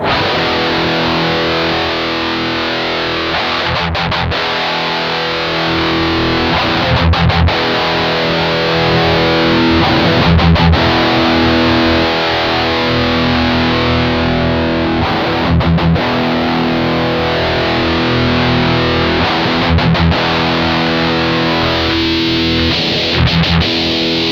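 A guitar runs through a BOSS MT-2W Metal Zone Waza Craft distortion pedal while its high and low EQ controls are turned, giving loud, dense, saturated chords that ring continuously with brief breaks between strums.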